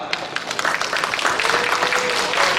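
A crowd claps steadily at a franchise expo lecture, the applause building slightly and staying dense throughout, heard from within a room.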